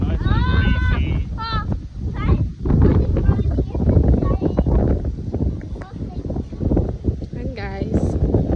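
Outdoor breeze at a seaside family outing in Malaysia, heavy gusting rumble buffeting the microphone continuously and up close, with people talking over it throughout.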